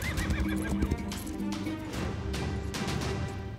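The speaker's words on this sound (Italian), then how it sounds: "Ho lasciato un cavallo a circa 200 metri da quella parte." A horse whinnies with a rising, wavering call, close and clear, alongside a few hoof clops and knocks in an outdoor survival setting.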